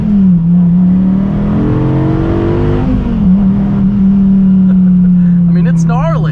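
A Dodge Viper engine drones loud and close, its pitch climbing under acceleration, dipping at a gear change, then holding a steady throbbing note; a voice speaks over it near the end.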